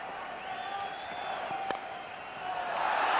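Some 55,000 spectators at a 1996 Cricket World Cup quarterfinal between India and Pakistan create a continuous distant buzz of crowd noise, swelling slightly near the end with faint whistles.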